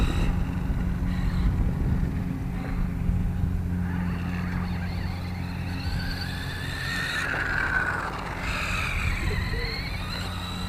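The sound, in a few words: Losi Rock Rey RC truck with 4300 kV motor driving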